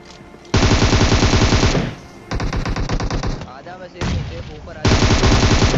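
Automatic gunfire in the mobile battle royale game PUBG Mobile, loud rapid bursts in three stretches with short pauses between, a final burst closing out the fight.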